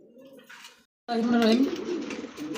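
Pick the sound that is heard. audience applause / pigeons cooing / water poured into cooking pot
pigeons cooing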